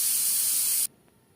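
A pressure cooker cooking motor dal (split peas) vents steam in a loud, harsh hissing blast that cuts off abruptly after under a second, leaving near silence.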